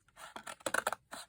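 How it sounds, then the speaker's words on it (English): A paper card is cut through the middle with scissors, a quick series of several crisp snips and rustles, close and quiet. "And then this one, I'm going to cut it in the middle"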